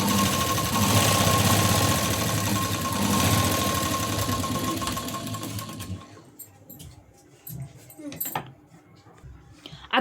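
A sewing machine runs steadily while stitching a sleeve seam on a garment, loud and continuous for about six seconds, then stops, leaving quiet handling clicks and small thumps of fabric and thread being trimmed.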